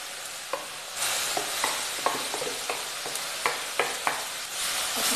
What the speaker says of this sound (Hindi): इसको अच्छे से और फ्राई करेंगे।